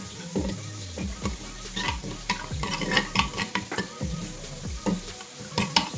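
Fish frying in coconut oil in a pan, a steady close sizzle with repeated scraping and stirring strokes from a utensil throughout.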